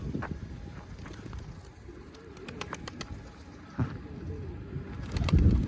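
Pigeons stirring and fluttering in a home coop, with soft wingbeats, shuffling and faint cooing close by, plus a louder flurry of movement near the end.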